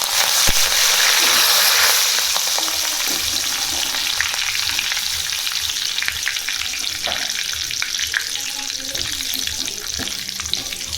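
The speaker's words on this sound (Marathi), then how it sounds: "यानंतर थोडासा कढीपत्ता पण तळून टाकू आपण" Curry leaves frying in hot oil give off a steady, bright sizzle, loudest in the first couple of seconds and then crackling on evenly close by.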